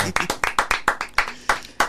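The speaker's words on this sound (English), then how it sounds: "let's give Stoney a round of applause one more time" Scattered, sparse claps from a small group for a podcast guest at the end of an episode, a handful of distinct sharp hand claps spaced irregularly, close and fairly quiet.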